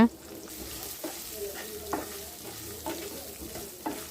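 Baby potatoes frying with salt in a pan, a continuous sizzle punctuated by regular stirring scrapes about once a second, close and moderately loud, no talking.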